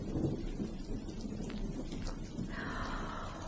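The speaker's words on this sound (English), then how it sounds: "sounds like a storm blowing up outside, doesn't it, children?" A stormy wash of rain and low rumbling thunder stands in for a storm brewing outside in a radio drama, soft and steady throughout, with a brighter hiss of wind or rain swelling near the end.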